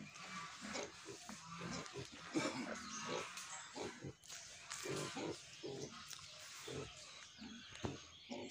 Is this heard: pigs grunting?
yes